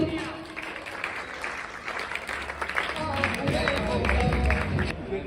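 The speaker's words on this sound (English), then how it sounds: "please give her a round of applause for Saloni" Applause from an audience at an English academy event for Saloni, a dance performer, builds into steady crowd clapping with some babble and a voice mixed in, growing louder toward the end.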